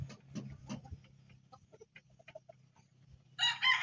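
Bulik gamefowl, hens and a rooster, give a run of scattered clucks and short calls, then a louder burst of crowing near the end, close by with no talk.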